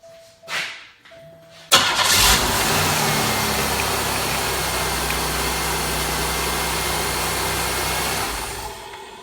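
A car with a 3.8-litre 3800 Series 2 engine cranks briefly, fires and settles into a steady mid-pitched idle that runs evenly to the end, close and loud.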